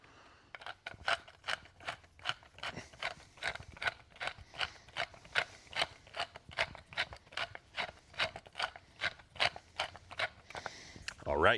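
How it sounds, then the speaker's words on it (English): A large pepper grinder cranks through peppercorns in a kitchen, producing a close, quiet run of rhythmic ratcheting crunches, about two per second, that stop abruptly near the end. "the Louisville Slugger of pepper grinders."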